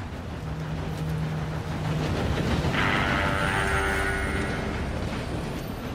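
In Red Dead Redemption 2, a low rumble grows as a train nears, then a loud harmonic horn-like tone rings out for a couple of seconds over the rolling noise.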